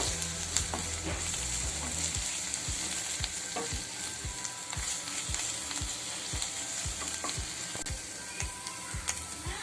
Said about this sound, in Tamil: கொஞ்சம் இஞ்சி பூண்டு பேஸ்ட் சேர்த்துக்கலாம். பச்சை வாசனை போகிற அளவுக்கு நல்லா வதக்கிடலாம்